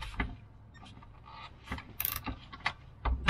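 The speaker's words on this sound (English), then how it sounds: "So I'm going to loosen these 4 bolts." A ratchet working on the 13mm bolts of a seat in a Sprinter van: quiet, irregular clicking and metallic ratcheting, with a few sharper clacks, heard close up.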